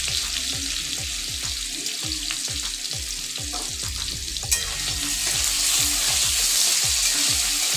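Potatoes with their skins on fry in hot oil with a dense, steady sizzle that grows a little louder in the second half, over a faint rhythmic low beat, with no talking.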